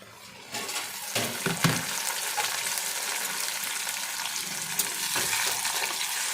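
Chopped onions and medium tomatoes fry in a pan for mutton curry, a steady bubbling sizzle with a few stirring clinks, no talking.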